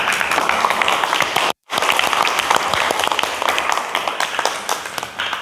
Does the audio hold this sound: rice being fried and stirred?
no